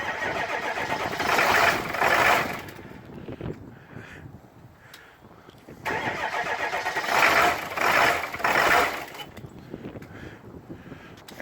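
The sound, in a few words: diesel truck engine cranking and starting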